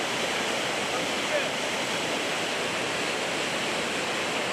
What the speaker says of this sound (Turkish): Azgın suda ekipler Sudi çocuğu arama çalışmalarına başladı